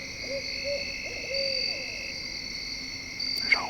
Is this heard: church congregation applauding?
no